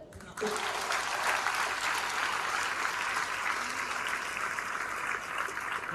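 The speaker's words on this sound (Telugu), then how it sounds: "మీరు క్లాప్స్ కొడుతూ ఉండాలా?" A crowd bursts into sustained applause after a quiet start, many hands clapping steadily and fairly loud until the end.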